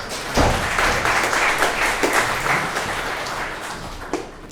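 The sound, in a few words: audience applause for Chris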